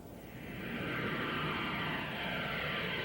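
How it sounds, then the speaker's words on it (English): A jetliner's broad roar swells up within the first half second, then holds as a steady, fairly loud rushing whine, played as a mystery sound in a 1969 children's listening game. "Yeah, a jetliner."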